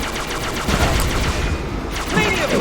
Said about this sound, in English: I know I can shoot the sentinels down too